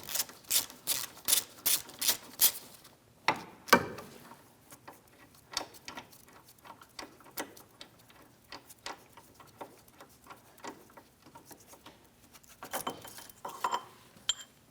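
Sharp metallic clicks and ratcheting taps from a wrench loosening the rear hub assembly mounting bolts on a 2007-2014 Ford Edge, faster at first, then sparse and quieter, with another cluster near the end.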